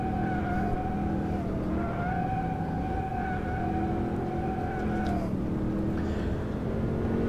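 Corvette C6 Grand Sport sliding in the rFactor 2 racing game at Putnam Park, a steady loud engine drone with wavering tire squeal tones running throughout, dropping off near the end.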